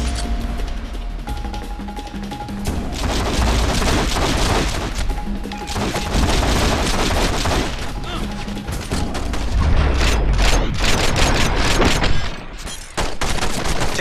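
Sustained video game gunfire from The Matrix: Path of Neo, loud dense bursts of automatic shots and impacts continuing without pause over a steady wash of action noise.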